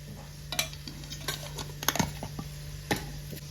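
A spoon stirring tamarind water with turmeric in a bowl, producing light scattered taps and scrapes against a low steady background hum.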